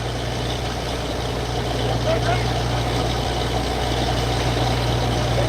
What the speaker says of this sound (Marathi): गाडी नुकतीच चालू झालेली आहे